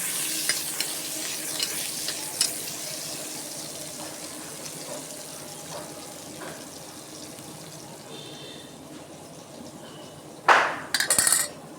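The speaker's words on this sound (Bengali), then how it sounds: "কেটে রাখা পেঁয়াজগুলো দিয়ে দিলাম। পেঁয়াজটা আমি ভালোভাবে ভেজে নেব।" Chopped onions fry in oil with a steady sizzle and intermittent spatula stirs, before a short burst of running tap water near the end.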